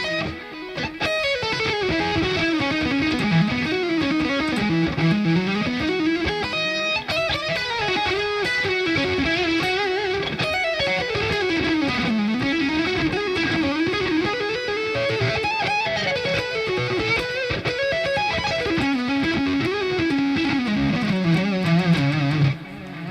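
Distorted electric guitar played live in a fast, melodic lead line with continuous sustained notes and bends, loud and close, alone with no talking.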